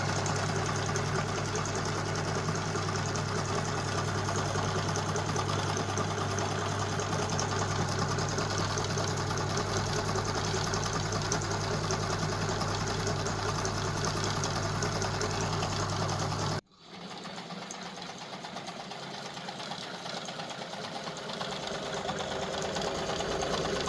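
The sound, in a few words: sewing machine stitching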